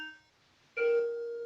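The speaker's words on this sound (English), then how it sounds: "can't imagine somebody's ringing my doorbell" A doorbell chimes indoors, two tones: a fading higher note followed by a brighter, sustained lower chime ringing clearly on its own.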